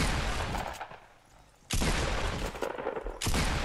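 A weapon fires in Fortnite, with a dense crackling volley of shots that comes in two loud bursts separated by a quieter gap.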